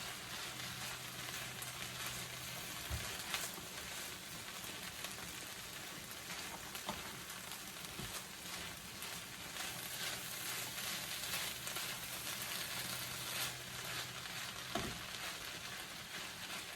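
Food cooking in a pan at home gives a steady, soft sizzle and frying crackle with scattered small pops, continuous and fairly faint throughout.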